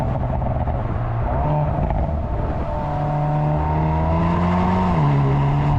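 A 2022 Hyundai Veloster N with a 2-liter direct-injection turbo four-cylinder and DCT pulls hard under full boost, its loud, steady engine note climbing in pitch, then dipping briefly at a gear change before rising again, with no talking.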